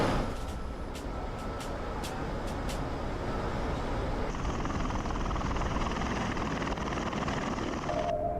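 A Bell Boeing V-22 Osprey tiltrotor aircraft flying near an airfield at Al-Assad, Iraq, gives a steady, loud, broad rotor and engine roar that holds throughout with no talk.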